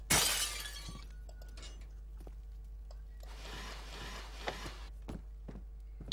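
Glass shatters loudly and close in the horror game Amnesia: Dark Saloon, a sharp crash with bright scattering debris right at the start, followed by quieter tinkling pieces, footsteps and a few later knocks over a steady low hum.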